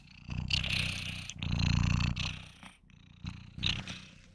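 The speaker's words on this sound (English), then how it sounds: "I don't know if you can hear my cat purring." A cat purrs close up in slow, rumbling pulses, each breath rising and falling, quiet and alone with no voices.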